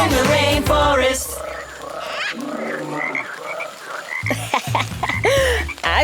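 A frog croaks in a rainforest setting, with repeated loud, close croaks rising over layered musical tones and rhythmic sounds.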